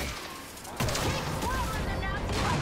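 Gunfire from the shooter game Wolfenstein: Youngblood breaks out abruptly as a dense, loud burst of rapid shots that keeps going, with a voice in the background.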